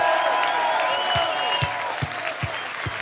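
Audience at a rap battle final applauds in a steady, dense wash of clapping, heard alone with no talk over it and staying fairly even throughout.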